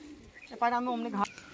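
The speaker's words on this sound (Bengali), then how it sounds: "দেখুন আপনারা পায়রাটা একটু ভালো করে দেখাবো সুখচাঁদ ভাই।" A pigeon coos once close to the microphone, a soft throaty rising-and-falling call lasting about half a second, in an otherwise quiet setting with light background noise.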